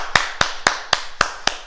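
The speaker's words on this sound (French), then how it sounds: "On s'applaudit, bravo." A group in a children's ninja class claps in unison: six sharp, evenly spaced claps in a steady rhythm, close and clear, with no talking.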